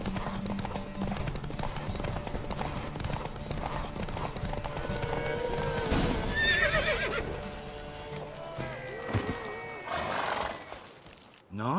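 Horse race in The Witcher 3: steady rapid clip-clop of galloping hooves with loud neighs and whinnies rising over it, plus faint voices in the background.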